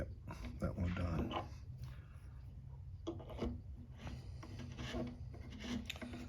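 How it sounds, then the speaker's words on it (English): A reamer cuts into the wood of a handmade guitar in repeated rasping strokes, scraping bursts coming and going close by at a low level. "So I need to use my reamer to create this depth here."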